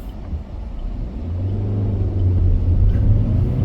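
A car accelerates away on a road near a roundabout, its engine rumbling low and rising steadily in pitch and loudness, heard from inside the vehicle.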